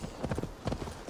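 Horse hooves clip-clop in the video game Assassin's Creed Valhalla, a quick run of soft, muffled thuds at a trotting rhythm, heard at moderate distance over a brief stretch.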